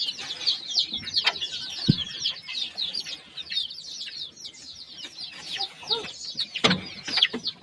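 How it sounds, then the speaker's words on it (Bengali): Chickens and roosters in a farm coop cluck and chatter continuously, several birds close by, with occasional wing flaps and scuffles. "বড় ঘরেও মনে হয় বেশ কয়েকটা মোরগ আছে।"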